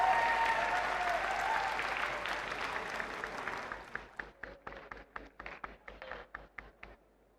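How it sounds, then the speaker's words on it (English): An audience at a national robot contest applauds in a dense, sustained wash that gradually thins into scattered individual claps, slowing and fading toward the end. "let's applaud them so that they can hear the claps and come soon"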